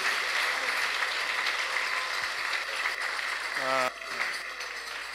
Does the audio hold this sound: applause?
yes